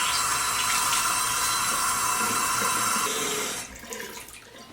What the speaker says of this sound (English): now I'm going to rinse my face